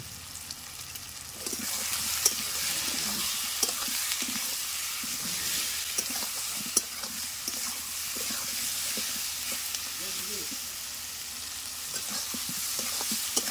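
A chicken curry masala with potatoes, turmeric and salt fries in a pan with a constant loud hissing sizzle, while faint scrapes and knocks of stirring come through underneath; no voices.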